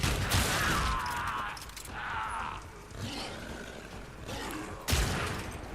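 Bursts of gunfire in Warframe come in several loud volleys separated by short gaps, with a sharp impact near the end, rough and roaring in texture.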